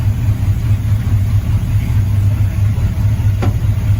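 A 1967 Pontiac Firebird engine already running after starting, a loud, steady close-up rumble with a slightly pulsing idle throughout, and no voices.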